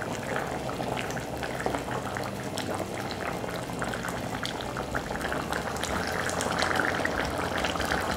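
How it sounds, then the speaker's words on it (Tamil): Dry fish curry bubbling at a steady boil in a clay pot, a dense, continuous popping and simmering that stays even and close throughout, with no talking. "இப்போ வந்து பார்த்திங்கன்னா நல்லா கொதிச்சிடுச்சு."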